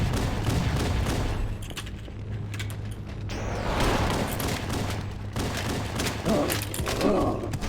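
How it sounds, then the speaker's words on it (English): Grenades go off one after another while fighting the Flood in Halo: Combat Evolved, a busy stretch of muffled booms and thuds mixed with gunfire over a steady low game hum. "I'm just gonna chuck as many grenades as I can."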